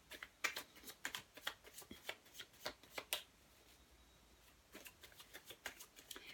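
Tarot cards being shuffled for a card reading, soft quick riffling patters in rapid bursts, close and quiet, pausing briefly before resuming.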